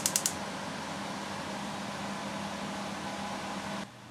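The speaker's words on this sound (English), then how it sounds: "sorry about the noise. I've got the extractor fan going" Kitchen extractor fan running steadily, a constant broadband whoosh with a low hum, close and unbroken for several seconds, with a few short clicks at the start before it cuts off near the end.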